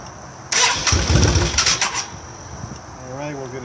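A 2008 Yamaha V-Star 650 motorcycle engine cranks and sputters briefly under throttle before dying, a loud close burst of rough firing that fades into a low fading rumble with voices nearby.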